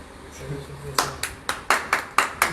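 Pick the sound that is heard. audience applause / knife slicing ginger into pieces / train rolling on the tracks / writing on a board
audience applause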